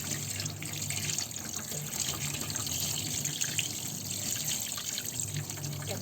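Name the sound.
tap water running while cleaning fresh fish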